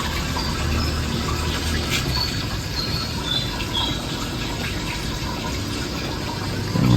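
A washing machine suddenly drains its water, giving a steady rushing, gurgling flow that holds at an even level throughout, ending in a louder surge.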